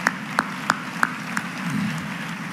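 Scattered hand claps from an audience at a birthday celebration gathering, about five sharp separate claps in a steady slow rhythm before fading into low ambient murmur.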